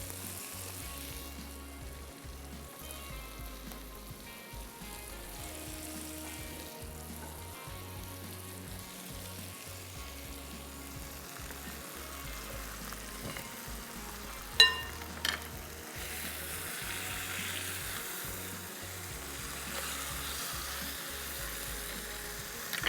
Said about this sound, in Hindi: बिल्कुल धीमी आंच पे, तकरीबन 4 से 5 मिनट लगेंगे फ्राई होने में।